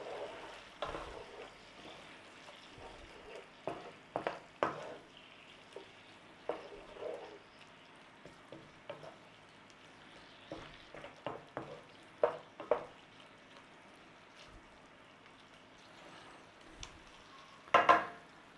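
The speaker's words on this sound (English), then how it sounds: "Give that a little stir through." Garlic is stirred into pork adobo in a pan, a utensil scraping and clinking intermittently against the pan with soft frying underneath, quiet overall with a sharper clatter near the end.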